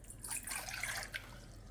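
Water poured into a measuring cup in a home kitchen, a soft trickling pour with light drips that lasts under two seconds, close and fairly quiet with no talking.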